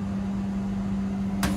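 A microwave oven hums steadily while heating a dish of carrots, a loud constant mechanical drone with a brief click near the end.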